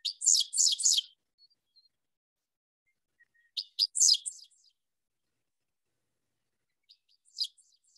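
Three short bursts of a dickcissel's buzzy, high-pitched song, each a quick stuttering phrase separated by silence, fairly close and clear.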